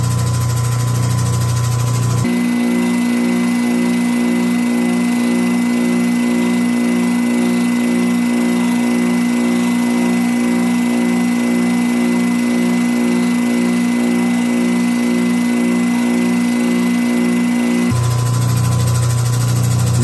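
A turquoise stone pressed against a rotating polishing wheel gives a steady motor whine and hum with a rhythmic pulsing grind, loud and constant, shifting in tone as the stone is worked.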